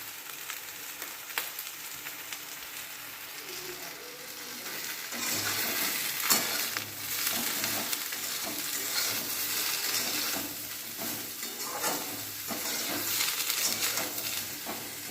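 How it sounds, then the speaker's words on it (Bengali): Vegetables fry in a pan with cumin and coriander powder while an idli batter dish is made, giving a steady close sizzle that grows louder partway through, with faint stirring and no talk. "এরপরে এই সবজিগুলো ভাজা হতে থাক"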